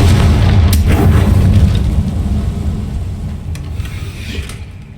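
A Confringo blasting spell detonates in Hogwarts Legacy with a loud, deep boom at the start that rolls into a long rumbling decay, with a few faint crackles trailing off as it fades.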